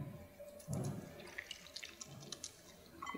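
A hand is rinsed under running water to wash off blue colorant: quiet splashing and trickling from a tap, with soft rubbing and small drips in irregular bursts, close by with no talk.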